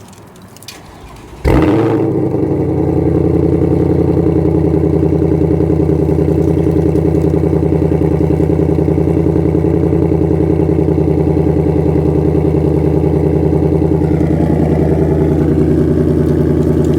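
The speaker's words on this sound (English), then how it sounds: "That is a good sounding car." A 2020 Shelby GT500 in Grabber Lime comes alive after a few light clicks, then settles into a loud, steady, deep idle with a constant low rumble that holds for the rest of the stretch.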